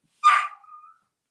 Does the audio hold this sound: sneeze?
no